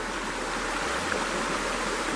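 Fast-flowing, non-turbulent water in a shallow stream about a foot deep, a steady close rushing and hissing wash that stays even throughout, with no voices.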